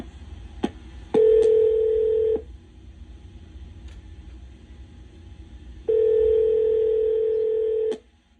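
Telephone dialing tones sound over a quiet background: a single click, then a long steady tone, a pause, and a second long tone, all close and clear with no speech.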